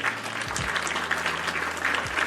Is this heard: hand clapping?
yes